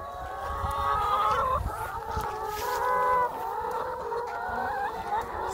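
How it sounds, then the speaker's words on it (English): Chickens cluck and call steadily at an open-air farm on a sunny day, a dense, overlapping flock chorus close by with no talking. "Right now we're looking at some chickens"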